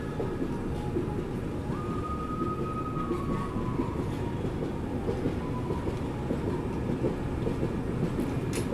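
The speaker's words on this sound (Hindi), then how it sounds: "बालूगांव रेलवे स्टेशन से भी हमारी ट्रेन का डिपार्चर हो रहा है" Passenger express train pulling out of Balugaon railway station on India's eastern coast, a steady loud rumble of wheels and carriage noise with a faint rising squeal, heard from on board with no talk.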